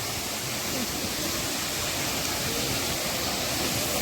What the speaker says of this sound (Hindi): देखिए ये शानदार वाटरफॉल